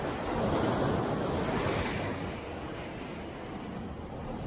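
Strong surf crashes and churns against a rocky shore during rock fishing, a dense continuous roar with gusting wind buffeting the microphone, loud and close throughout.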